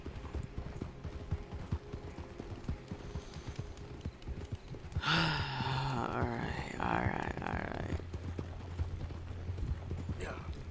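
Horse hooves galloping in Red Dead Redemption 2, a steady rhythmic clip-clop running throughout, with a snort or whinny partway through and a voice speaking over it.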